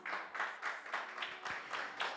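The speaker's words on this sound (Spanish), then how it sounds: "Iglesia, dale un aplauso al Señor." A church congregation claps in a steady, regular rhythm, about two beats per second, faint and somewhat distant, with a brief low thump partway through.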